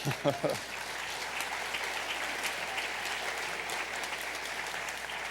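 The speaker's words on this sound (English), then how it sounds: "I'm glad you're all cheering." An audience at a city planning talk breaks into sustained, even applause that fills the hall for several seconds, with a brief voice at the very start.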